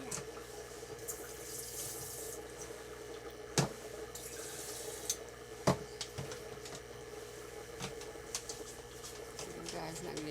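Water runs from a faucet into a kitchen sink during dishwashing and scrubbing with a brush, a steady wash broken by a few sharp clatters of dishes, with faint voices in the background.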